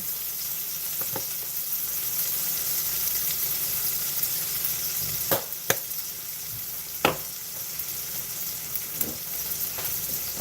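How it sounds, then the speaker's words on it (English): Onions, mushrooms, cilantro and garlic sizzle steadily in a sauté pan, with a few sharp clacks and knocks from a spoon or utensil against the pan scattered through. "I was sauteing my onions, mushrooms, cilantro, garlic"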